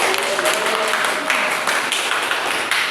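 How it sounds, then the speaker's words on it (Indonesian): Classroom applause for students in a high school religious education lesson, a few seconds of steady clapping with a voice faintly audible at the start. "Berikan dulu tepuk tangan untuk mereka."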